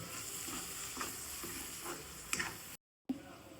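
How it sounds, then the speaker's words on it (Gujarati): Spring onion whites roast in a pan while being stirred, a soft steady sizzle punctuated by rhythmic scraping strokes and a brief clatter, then a short gap of silence before the frying resumes. "એને પણ થોડી વાર શેકી દઈશું."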